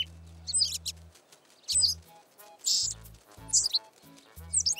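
Cartoon baby bird chirping alongside its parents in a snowy winter scene, several short bright tweet bursts repeating at uneven intervals, with low musical tones underneath and no talk.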